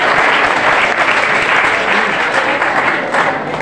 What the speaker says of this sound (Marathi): टाळ्या वाजवायच्या जरा जोरामध्ये